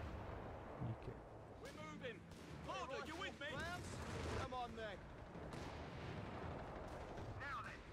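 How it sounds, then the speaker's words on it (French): An anti-tank gun fires in the strategy game Company of Heroes 3 amid battlefield booms and continuous noise, with someone talking over the action. "Oh, on tire, il va avoir un bon petit canon anti-char là pour m'aider."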